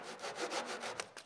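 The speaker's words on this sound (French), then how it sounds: "Tu le scies avec une scie fine." A fine handsaw cuts through a laminate floor board while laminate flooring is laid around a door frame, giving steady, close rasping back-and-forth strokes with no talk.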